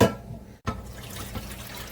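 Rice and liquid pouring into a pot for a one-pot chicken and rice bake, a splashing watery pour with a brief break, then a steady trickle.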